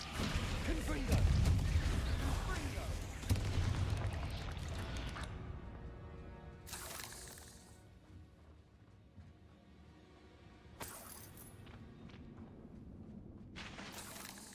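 A Confringo blasting spell from the Hogwarts Legacy video game goes off in loud, crashing bursts amid combat clatter and voices, with further sharp blasts later over a quieter background.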